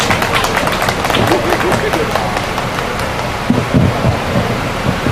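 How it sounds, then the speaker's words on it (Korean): Crowd applause at a nighttime outdoor rally in solidarity with SsangYong Motor workers: dense, steady clapping from a sizable audience, sustained throughout at fairly close range, with a few louder bursts near the end. "힘찬 박수 부탁드립니다"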